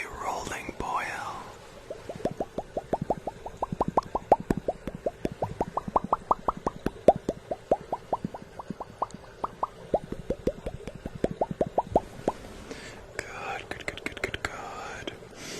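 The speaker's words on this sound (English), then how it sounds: "We must stir and let our potion come to a rolling boil." A bubbling potion is stirred toward a rolling boil in an ASMR setting, with a long, rhythmic train of soft liquid plops and bubbles and a whispering voice at the beginning and end.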